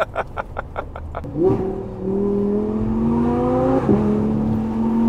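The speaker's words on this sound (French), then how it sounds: "le V8, on l'a bien entendu là" A V8 car engine revs on a tight bend in Switzerland, a sharp blip rising into a loud, climbing roar with a second surge near the end, preceded by rhythmic clicking and brief voices.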